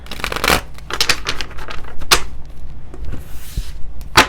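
Tarot cards being shuffled by hand at close range, a series of crisp riffling bursts and soft slaps in irregular rhythm, clear and alone with no talk.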